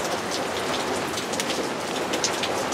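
Rain falls steadily by a back step, a dense, close patter of drops hitting hard surfaces with an even hiss throughout.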